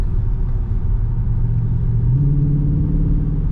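A Dodge Charger Scat Pack widebody with its exhaust valves open in track mode rumbles steadily from inside the car, a deep continuous drone that swells slightly as the throttle opens partway through.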